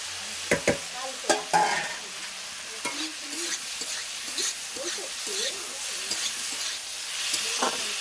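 Snake gourd and prawns stirred in a hot frying pan, with sharp scraping knocks of a utensil at the start and then a steady sizzle and hiss under the repeated stirring.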